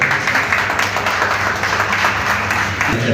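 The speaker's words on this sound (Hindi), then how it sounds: "तालियों से स्वागत करें" Audience applause welcoming guests at a community Dandiya and Diwali celebration, a steady wash of many hands clapping throughout, fairly loud and continuous with no pauses.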